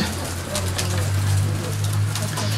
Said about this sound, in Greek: Και εδώ βλέπουμε και τα πουλιά που ήρθανε.